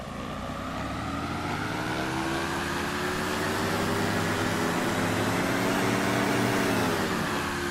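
A Diamond DA-50RG aircraft engine running up on the ground in a flight simulator, heard from outside as a steady droning hum that slowly builds and rises in pitch toward higher power, with no voices.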